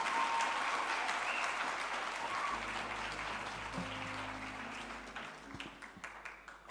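A conference audience applauds steadily at a Future of Work dialogue session, a dense, even wash of clapping that fades slightly toward the end, with faint tones and murmurs underneath.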